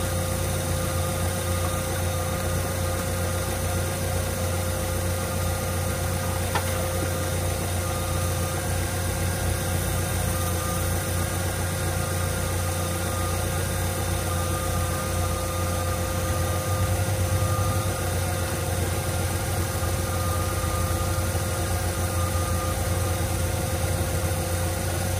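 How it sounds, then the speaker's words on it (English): A car engine idling steadily during a radiator flush, a constant low rumble with slight vibration and no change in pace for the whole stretch, heard alone without talking. "So I'm about to turn the car on and continue."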